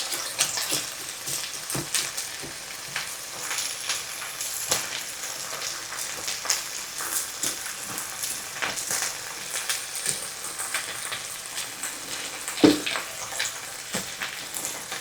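Rice browns in a skillet for a chicken, rice and broccoli one-pot meal, a soft continuous sizzle broken by repeated light scraping and stirring clicks, close with no talk.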